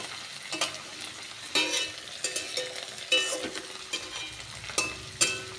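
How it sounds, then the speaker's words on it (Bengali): A utensil stirs tomato, shrimp and ridge gourd frying in a pan, giving steady sizzling broken by sharp scrapes and clanks against the pan at irregular intervals, close and fairly loud with no talking. "টমেটো দিয়ে একটু নেড়ে চেড়ে নিলাম, সব কিছুর সঙ্গে টমেটো মিশিয়ে নিলাম।"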